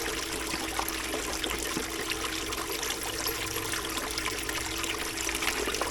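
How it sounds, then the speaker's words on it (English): Water churns continuously through nozzles in a rock-washing bucket, a steady close trickling and bubbling wash with no voices over it. "So you load the material in and the water will circulate"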